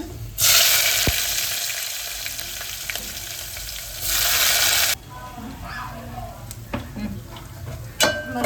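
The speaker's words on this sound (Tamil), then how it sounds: "வரமிளகா கறிஞ்சி இப்போ வந்து வெங்காயம் போட்டுக்கலாம்." Dried red chillies and onion frying in a pan, two loud sizzling bursts as ingredients hit the hot oil, with quieter crackling and utensil clicks in between.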